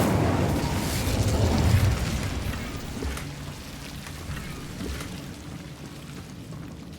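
A fire spell burst in a Hogwarts Legacy game: a loud, broad whoosh and crackle up front that decays into a lingering rumbling fire texture over several seconds, with no talk.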